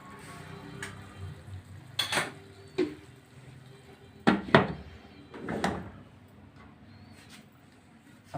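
Bihari keema is served out of a pan into a small kadhai, with sharp metal utensil clanks and scrapes coming in irregular bursts, loud and close against a quiet kitchen background.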